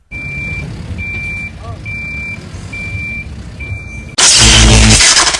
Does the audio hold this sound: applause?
no